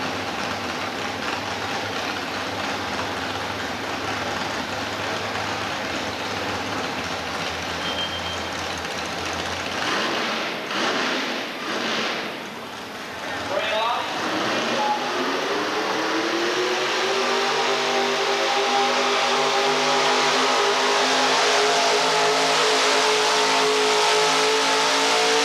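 A modified pulling truck at a 1987 outlaw sled pull in Murray, Kentucky, roars loudly, dips briefly, then climbs into a long rising rev as the engine strains under load, with no talk over it.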